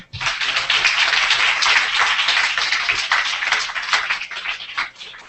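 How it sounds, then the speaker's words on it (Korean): Sustained audience applause after a long lecture on the creative power of the Korean language, a dense, steady wash of many hands clapping that holds loud throughout and thins slightly at the end. "다시 한번 큰 박수 부탁드립니다"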